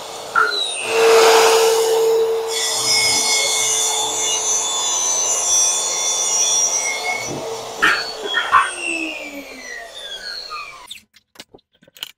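A plunge track saw cuts through an 18 mm MDF board, with a loud, steady rasping whine held for around ten seconds, then a few rattles and clunks as the cut finishes and the saw stops.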